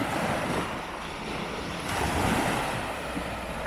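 Gentle sea waves wash along the UK coast in soft, slowly rising and falling surges, with some wind buffeting the microphone and no voices.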